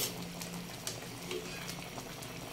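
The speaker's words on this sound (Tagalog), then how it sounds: "kumukulo na ang aking adobong isda" Adobo fish with olive oil bubbles at a steady boil in a pot, a continuous soft roiling and popping texture that is close and moderately loud, with faint pops scattered through.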